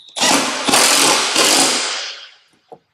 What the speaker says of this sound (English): Now we're going to tighten the nut with our impact and 13 millimeter.